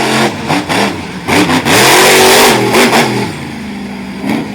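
A monster truck's engine revs hard at an arena show in Honesdale, Pennsylvania, with loud, close bursts of throttle surging up and dropping back in repeated waves as the machine launches a wheelie off an obstacle.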